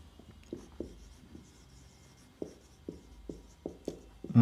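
Marker or chalk writing on a board during a Hindi-English grammar lesson on tenses: a series of short, distinct scratchy strokes in irregular rhythm, close and fairly quiet, with no talking.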